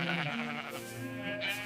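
Sheep in an enclosure let out a close, continuous wavering bleat, loud and clear with no other sounds around it.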